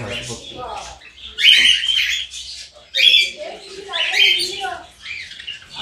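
Cockatiels and Java sparrows calling close by, loud shrill squawks and chirps arriving in repeated bursts with short gaps between them.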